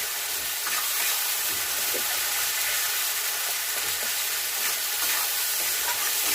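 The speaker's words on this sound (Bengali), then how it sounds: "এরকম করে মশলা ভালো করে কষাতে হবে মাছের ঝাল বানাতে গেলে" Spices sizzle and fry steadily in a pan for Bengali bata fish jhal, with chilli powder and salt added, a dense continuous crackle close by and loud throughout, with faint stirring scrapes and no talking.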